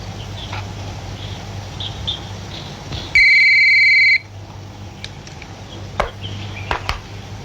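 A telephone rings once in a short electronic burst of about a second, loud and close in an otherwise quiet room with a low background hum.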